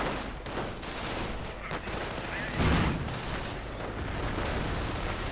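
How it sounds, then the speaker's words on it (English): Grenades burst during an infantry assault in a real-time strategy battle, a dense crackle of small-arms fire with one heavier blast standing out near the middle, with a commentator's voice running throughout. "Grenades going off as an assault moves in"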